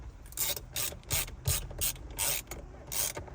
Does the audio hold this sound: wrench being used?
yes